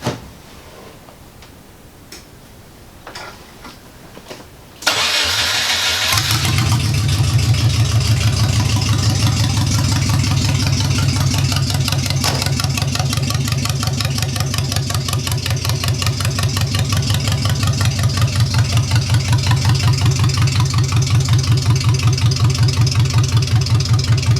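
A Porsche 914 project car starts up after quiet clicking and fumbling, then settles into a loud, steady, slightly lumpy idle that runs on close by, with no talking over it.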